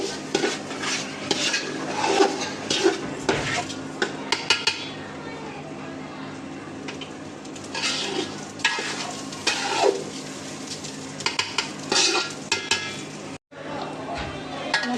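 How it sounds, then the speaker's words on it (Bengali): Raw rice for biryani being fried in a pot, with a hissing sizzle under repeated scraping and stirring strokes of a spoon against the metal, uneven bursts close by, and a faint voice briefly in the background. "চালটা ভালো করে ভাজে নিলে বিরিয়ানিটা ঝরঝর হইব সুন্দর হইব"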